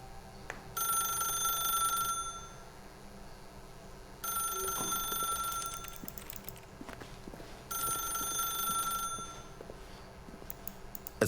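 A telephone rings in The Stanley Parable video game, three long bursts of electronic ringing separated by pauses, with faint footsteps and ambient hum between rings.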